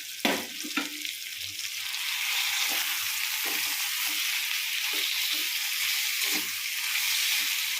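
A steady, crackling sizzle of green chilies frying in hot oil fills the clip, loud and continuous, with faint clinks of stirring near the start.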